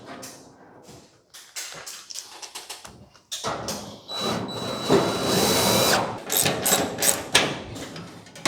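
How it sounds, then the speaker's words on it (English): A power drill drives screws into the trunk lid structure of a 1940 Ford Coupe–inspired custom car, with several short, loud whirring bursts separated by brief pauses and the clatter of the tool being handled up close. "See if we can get a couple screws in."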